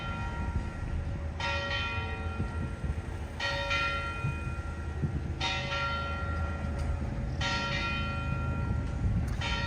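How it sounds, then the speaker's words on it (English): Church bells ring out in Castelo de Vide, each strike spaced about two seconds apart and ringing on with bright, sustained tones over a steady background hum. "And yes, so there's more bells."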